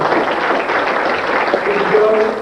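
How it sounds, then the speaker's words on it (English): Banquet audience at a magic show applauding as a magician is introduced, a continuous crowd clapping that stays loud and even, with some voices underneath. "Round of applause for Mr. Stefan Bartelski"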